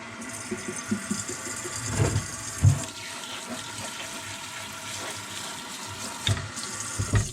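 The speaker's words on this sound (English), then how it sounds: "let's mist our grains." A hand sprayer mists water over grains on coconut coir, giving quiet bursts of spray against a soft background hiss.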